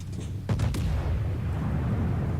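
Naval guns from a warship fire at an enemy Tirpitz in World of Warships, a quick cluster of heavy booms that rolls into a low rumbling tail.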